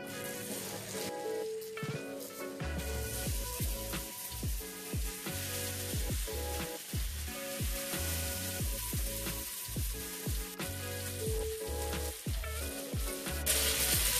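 Chicken legs crackle and sizzle in a hot pan, a steady dense hiss of frying with scattered pops and occasional stirring scrapes, close and continuous without speech.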